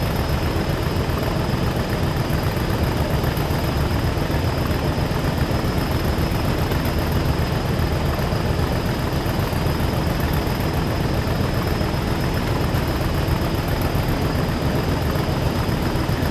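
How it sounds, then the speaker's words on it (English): A diesel train engine in Train Sim World 6 drones loud and steady with a deep rumble and a constant high whine, the same dense sound throughout with no voices. "This accelerates better than the 171. It's got a better diesel engine."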